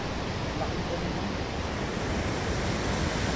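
Strong water rushes outdoors in Canadian nature, a loud, steady, close roar of broadband wash that never lets up, with some wind on the microphone.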